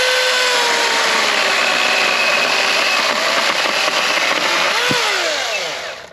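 RIDGID electric chainsaw cutting through deadfall wood, a loud, close, continuous whining buzz with the motor's pitch shifting under load, then spinning down and cutting off sharply at the end.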